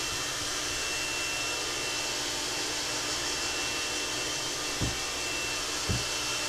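A hair dryer blows on wet watercolor paper, a loud continuous whirring roar that holds steady, with two brief thumps near the end and no talking.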